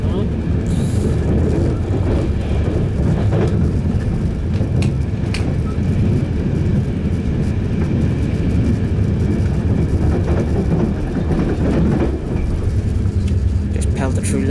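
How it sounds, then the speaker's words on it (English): Steady loud rumble and rattle from inside a moving Enterprise passenger train passing through Lisburn on an Irish railway, continuous low roar with occasional clanks throughout. "We are currently on the Enterprise train"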